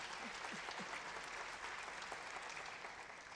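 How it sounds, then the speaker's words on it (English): Applause from an event audience greeting Neo Masisi, First Lady of Botswana, at SheTrades Global 2019: steady, fairly faint crowd clapping that holds evenly throughout, with no voices over it. "Big applause for her,"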